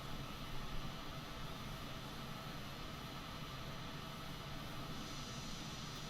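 Aircraft engine at full throttle in Microsoft Flight Simulator 2020, heard as a quiet, steady broadband drone with an even hiss from start to finish.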